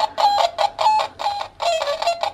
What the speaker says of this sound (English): That's the Mega Duck loading screen.